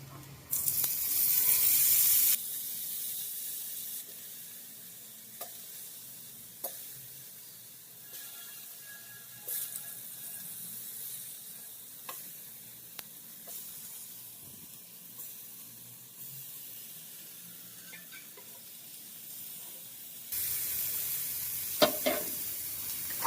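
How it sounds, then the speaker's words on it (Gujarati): Long paneer pieces frying in a spoonful of oil on a tawa, a soft steady sizzle close by with occasional clicks and scrapes, and louder hissing bursts at the start and near the end. "તાવા ઉપર 1 ચમચી ઓઇલ નાખી અને આપણે પનીર શેકી નાખશું."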